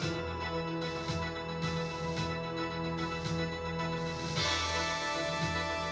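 Background game music from The Chaos Engine playing on a Commodore Amiga CD32, a steady layered tune with a pulsing beat, moderately loud, brightening near the end, with no talking.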